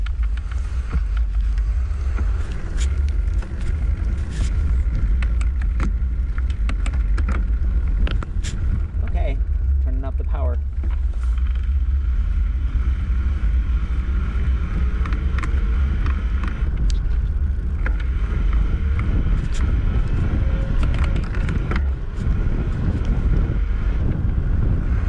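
Devinci E-Milano electric bike ridden at its highest pedal assist level, with steady wind rush and road noise dominating while any motor whine stays low and hard to pick out.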